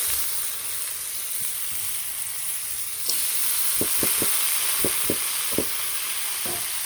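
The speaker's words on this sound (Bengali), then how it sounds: "তেল দিয়ে দিচ্ছি পেঁপে ভাজিগুলো দিয়ে দিই" Papaya pieces dropped into hot oil in a pan, with a quiet low hiss that jumps to a loud, steady sizzle, followed by several spaced spatula knocks and scrapes.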